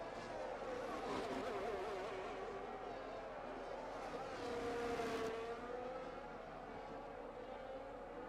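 Race car engines in a racing video game at a Spain circuit, heard as a distant, thin whine that rises and falls as the cars run. The engines stay faint and far off throughout.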